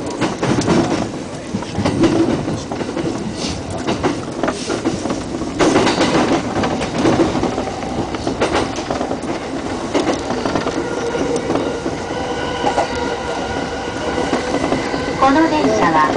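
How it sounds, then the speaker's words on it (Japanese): Yamanote Line commuter train in Tokyo running between Shinagawa and Tamachi, steady rumble and rail noise with faint clatter and a brief squeal, heard from inside the car. "この電車は山手線内回り、東京上野方面行きです。"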